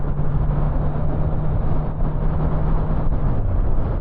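Heavy wind buffets the microphone during a ride on a Kawasaki Z900 motorcycle, a continuous close, dense roar with a low engine hum running underneath for the whole stretch.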